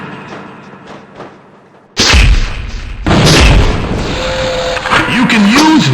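A heavy grenade blast from the mule launcher in the Gunman Chronicles shooter, a sudden loud boom that cuts in after a quieter stretch, followed by a second rumbling burst and sustained roaring debris noise with game sounds layered in.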